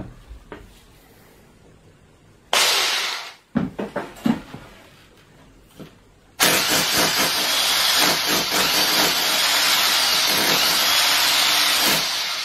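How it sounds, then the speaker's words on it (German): A loud rotary hammer drill roars continuously into a masonry wall after a few short bursts and pauses, a harsh, gritty grinding noise close by. "Fortsetzung der Bohrer mit einem richtigen Bohrhammer."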